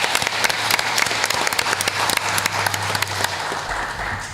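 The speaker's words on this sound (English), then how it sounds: "stand up please, and let's give him an applause." A city council meeting audience applauds, dense steady clapping at moderate distance, fading slightly toward the end.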